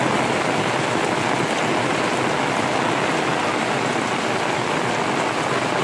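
Heavy monsoon rain falls in a loud, constant roar over roads and fields, dense and unbroken throughout, with no voices.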